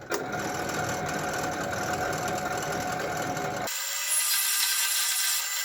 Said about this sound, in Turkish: Evet, butonun deliğini de delelim.